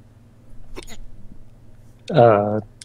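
A single sudden hiccup-like vocal burst near the end, following a brief quieter sound earlier; otherwise mostly quiet.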